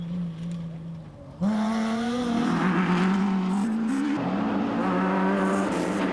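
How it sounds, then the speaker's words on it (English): A Toyota Hilux rally truck at the Magalies 400 roars loudly through a hairpin, its engine note dropping then surging into a strained, rising rev with tyre noise as it powers out of the bend. "Slick handling there from Visser, easily maneuvering his way through the hairpin."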